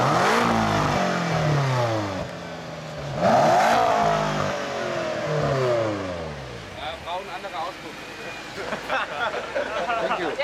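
A BMW M5 F10 in Monte Carlo Blue is revved repeatedly with its exhaust flap closed, giving loud rising and falling engine sweeps up close, with people talking in the background and some chatter toward the end.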